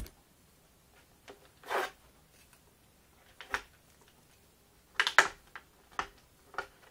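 Tape being peeled off a surface in a few short rasping pulls, quiet and close, with brief pauses between strips and no talking.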